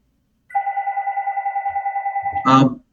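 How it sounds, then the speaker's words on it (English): A telephone rings during a group call, a steady warbling electronic tone lasting about two seconds, ending as a brief burst of noise cuts in. "Now we're all answering that phone call."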